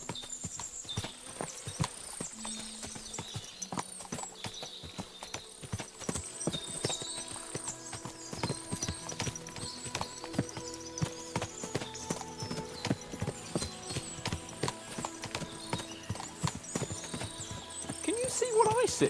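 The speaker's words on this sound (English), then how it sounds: "What a lot of horses!" In the video game Kingdom Come: Deliverance II, many horses' hooves clip-clop at a steady walking pace, with occasional neighs and people talking over the top throughout.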